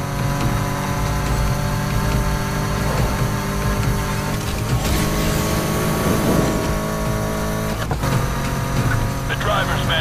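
A BMW M3 engine roars steadily during a video game police pursuit, a loud continuous drone with shifting revs and occasional bumps.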